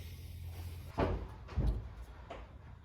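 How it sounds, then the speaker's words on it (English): Three dull, muffled thumps of dogs outside rubbing against a building wall knock at uneven intervals, over a low steady background hum. "If you hear that thumping around, that's my dogs outside rubbing up against the side of the building"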